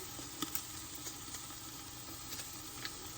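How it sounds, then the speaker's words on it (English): Garlic for French onion soup frying in a pan, a faint, steady sizzle with a few light taps of stirring, close and quiet. "Stir that around and just let the garlic get nice thin."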